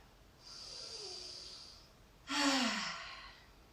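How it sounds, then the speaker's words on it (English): Two slow, deep breaths, a long soft airy inhale through the nose and then a louder, fuller exhale through the mouth, close up and alone in a quiet room during a yoga cool-down. "Take a few deep breaths through your nose, exhaling through your mouth"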